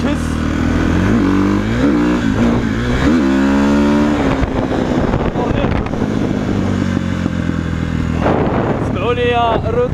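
A KTM 450 SXF motocross bike engine revs in several rising blips, then settles into a steady loud idle. A brief second rev flare comes near the end, with speech-like sound mixed in under the engine.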